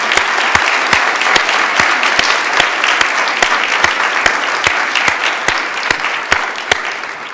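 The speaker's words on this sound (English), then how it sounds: "I hope that you will join me in giving a really big round of applause and thank you to them." An awards ceremony audience applauds steadily, dense clapping with sharper individual claps standing out, sustained at an even loud level throughout.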